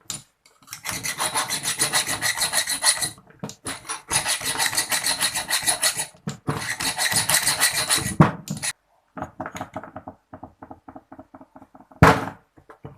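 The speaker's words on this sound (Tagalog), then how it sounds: "So, meron akong kikil na maliit. Subukan kong kilin." A small metal file rasps back and forth over raised, damaged metal on a motorcycle drive axle, in long close strokes with brief pauses, then shorter choppy strokes near the end.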